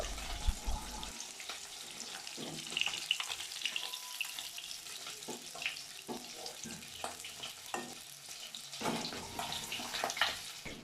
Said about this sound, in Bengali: একইভাবে সব মাছগুলো আমি লাল লাল করে ভেজে নিচ্ছি।